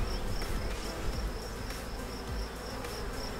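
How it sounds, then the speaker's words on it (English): Honey bees swarming around a row of backyard hives, a dense continuous drone of many wings heard up close and steady, with individual bees buzzing past near the listener. "I'm like right in the middle of all the bee traffic."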